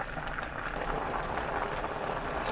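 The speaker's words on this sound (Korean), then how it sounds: "콩나물 넣고 센 불로 2분 끓여주세요." Bean sprouts boil uncovered over high heat in a pot seasoned with anchovy fish sauce and coarse salt, giving a steady, fairly quiet bubbling hiss close by with no voices.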